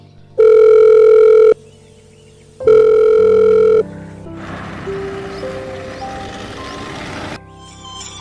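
A phone line rings in two long, steady tones with a pause between them, followed by a jumble of electronic beeps and tones.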